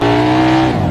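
A Koenigsegg in a car video game, its engine holding a loud, steady high-rpm drone with a strong tonal hum, easing slightly near the end of a brief burst.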